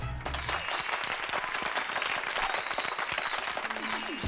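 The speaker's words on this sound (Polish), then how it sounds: "I klaszczą. Brawo." An audience claps and applauds at a superstar school graduation, a dense, continuous burst of hand-clapping that stays loud and even from start to finish.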